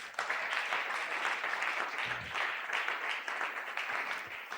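A church congregation at a Sunday praise and thanksgiving service bursts into sustained applause, dense and even clapping from many hands filling the room for several seconds without pause.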